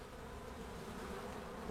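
Honeybees buzz in a soft, steady hum, many insects droning together at close range without any voices.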